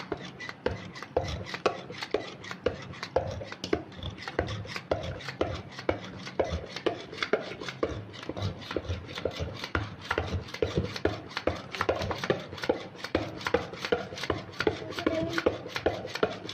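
Chicken nugget mixture with milk is worked by hand in a bowl, giving a steady, rapid series of close wet slaps and scrapes that continue without pause and without talk.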